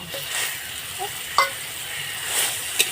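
Fish curry gravy simmers with cumin, coriander and black pepper powder, giving a steady frying hiss with a few light utensil taps over it, close and without talk.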